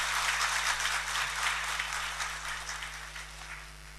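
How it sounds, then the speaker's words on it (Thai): A Thai national health insurance public hearing audience gives sustained applause to welcome two guests, a steady dense wash of clapping that slowly fades, with a constant low hum underneath. "ขอเสียงปรบมือดังๆต้อนรับทั้งสองท่านค่ะ"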